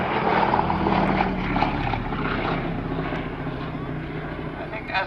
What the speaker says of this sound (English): I think as an actual flying machine, I think the Gladiator probably takes an awful lot of beating.